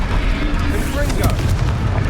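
Confringo fire spell blast in Hogwarts Legacy: a loud, dense fiery burst with rumbling booms filling the whole moment, with a voice mixed in.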